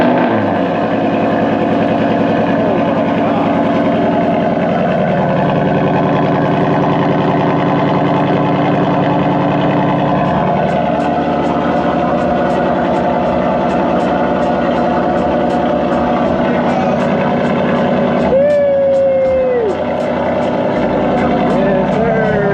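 Ford Mustangs fitted with Corsa Extreme exhausts idle after a cold start: a loud, steady, deep exhaust rumble that runs throughout, with people talking over it.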